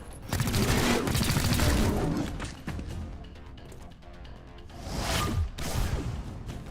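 Bursts of gunfire aimed at a brute in XCOM Chimera Squad, a loud volley at the start, then scattered sharp shots and another heavy burst near the end, with whooshing impacts.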